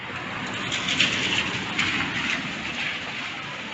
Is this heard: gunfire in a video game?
no